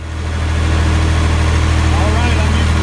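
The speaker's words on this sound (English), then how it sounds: "I'm using the massive Ferguson tractor to take a load of gravel down the road" A Massey Ferguson tractor hauling a load of gravel down a road, its engine starting up and settling into a steady, close, loud diesel rumble with a low throbbing idle; a voice speaks over it.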